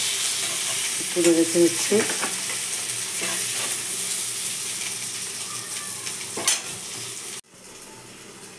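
Prawns fry in oil in a wok with a constant bright sizzle and hiss. A utensil stirs and scrapes them, someone speaks briefly, and the frying cuts off abruptly near the end.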